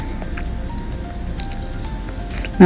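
Gram flour batter being spread in a circle across an oil-greased pan for besan chila, giving soft, wet squishing and dabbing sounds over a faint steady background hum, with a brief louder scrape at the end.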